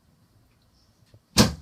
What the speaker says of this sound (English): I'll just open up so you can see where the door is.